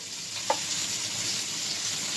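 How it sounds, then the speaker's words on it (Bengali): Steady, soft sizzling of potato and pointed gourd frying in oil, with a brief faint clink near the start and no talking. "যতক্ষণ আমার আলু পটলটা ভাজা হচ্ছে"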